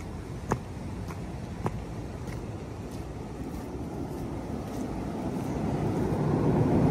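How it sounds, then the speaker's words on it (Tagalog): A strong water current flows beneath Pulgas Water Temple as a steady rushing roar that slowly swells louder toward the end, with a few faint clicks near the start and no talking. "naririnig niyo yung ilalim, malakas yung current"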